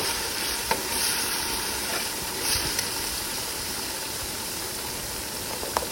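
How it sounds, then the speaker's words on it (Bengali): Ginger paste and spices stirred and fried in a pan for Bengali bhuna khichuri, a steady close sizzle with faint scraping stirs running through, no talk. "তো আদা বাটা, সব দিয়ে নাড়া দিয়ে আমি একটু কষাই নিতেছি।"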